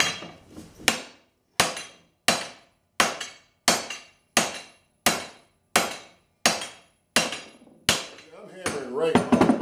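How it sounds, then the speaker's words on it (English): A hammer strikes a TIG weld joining mild steel to spring steel about a dozen times at a steady pace, each ringing blow sharp and close, with brief quiet between strikes. "I'm hammering right on the weld."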